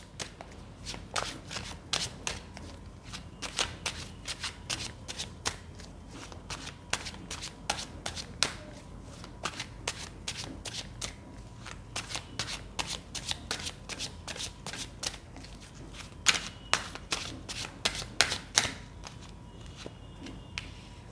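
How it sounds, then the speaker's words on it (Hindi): Tarot cards being shuffled by hand, a steady run of crisp riffling and flicking snaps close up, fairly quiet, with no talking. "जब तक मैं कार्ड शफल कर रही हूँ"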